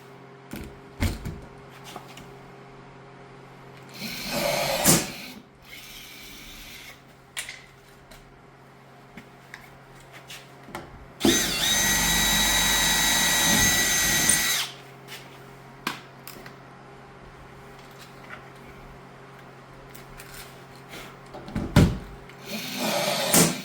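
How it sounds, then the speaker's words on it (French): A power drill bores holes for rivets during a Rocshield installation, with several short drilling bursts and one longer steady run of loud whirring, separated by quieter handling noises. "C'est recommandé de percer un, d'installer le rivet, ensuite percer le deuxième."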